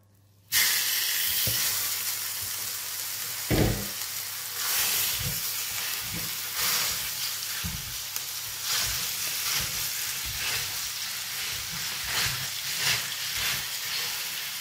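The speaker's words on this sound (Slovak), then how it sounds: "Na panvicu sme si dali mleté mäso, ktoré si teraz orestujeme do hneda." Minced meat frying in a pan, a steady loud sizzle and hiss with occasional stirring scrapes, continuous throughout with no talking.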